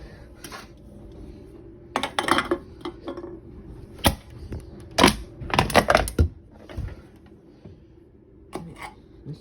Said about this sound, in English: me crushing cans.